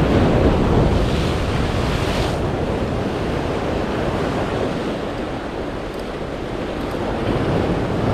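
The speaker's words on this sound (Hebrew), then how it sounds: "וואי, ים גבוה." Rough, high sea surf breaking on a shore during shore jigging in Israel, a continuous loud rushing wash of waves buffeted by wind noise, with no talk.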